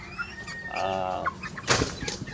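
Chickens on a farm, being moved from a brooder to a growing pen for fowlpox vaccination, give a short close cluck followed by a louder burst of rustling and wing flapping.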